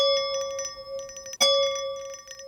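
A wine glass struck once as a sound effect gives a bright, sustained ringing tone that sits steady, with a second sharp hit midway that rings on and slowly tails off, clean and close with no talk.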